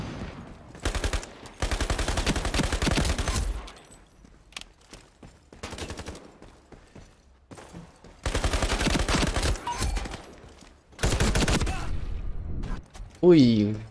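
Gunfire in the online shooter Ironsight, with repeated bursts of rapid automatic shots in several loud volleys separated by quieter gaps, ending with a brief rising tonal effect.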